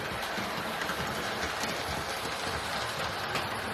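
A Hornby LNER Thompson A2/3 Pacific model locomotive, Chamossaire No 514, runs with a steady close whirring mechanical hum and faint rattle, even and continuous throughout, with no talking.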